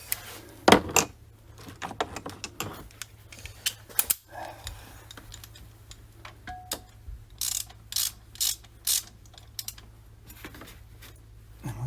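Ratchet clicks in short bursts tightening 10mm bolts into aluminum on a 2004 Honda Pilot power steering pump, scattered metallic clicking at close range with quiet gaps between.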